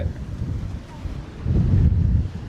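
Strong seaside wind at Teknaf buffets the microphone as a steady low rumble that swells louder toward the end, with faint sea and boat noise beneath and no clear talk.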